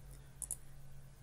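Computer mouse clicks during a right-click and extract step on a Linux desktop, two quick crisp clicks close together against a low steady hum.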